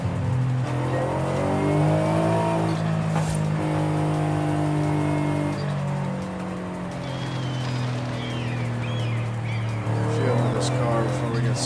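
Racing car engine held in second gear in a driving game, loud and close, with strong harmonic tones rising and falling as the revs climb, drop and climb again, plus occasional tire noise.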